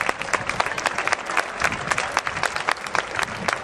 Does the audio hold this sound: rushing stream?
no